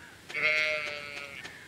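A single drawn-out sheep baa from the farm game Stardew Valley, clear and fairly loud, with a few faint clicks around it and no voices.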